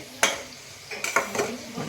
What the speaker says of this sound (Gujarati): આમાં આપણે શાક વઘારી મેથીનું